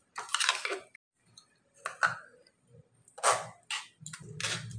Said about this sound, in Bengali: একটু চামচ দিয়ে এরকমভাবে নাড়াচাড়া করলে খুব সুন্দর ছেঁকে বেরিয়ে যাচ্ছে